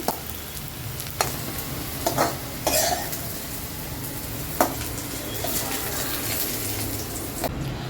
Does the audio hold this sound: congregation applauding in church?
no